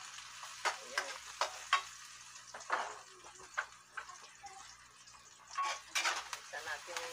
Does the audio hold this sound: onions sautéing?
yes